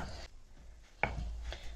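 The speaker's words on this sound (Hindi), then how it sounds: "सिलबट्टे से ऐसे पीसने में अच्छा टेस्ट आता है, और लहसुन का और मिर्च का, इसको इसमें ऐसे पीस लेंगे।" Garlic and green chili are crushed on a stone grinder. A few close, sharp knocks and scrapes ring out at uneven intervals, with quiet pauses between them and no speech.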